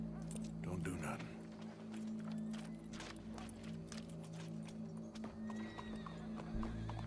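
Hooves clip-clopping and a horse whinnying in the Red Dead Redemption 2 video game, steady footfalls under game music and a voice, the neigh standing out near the start.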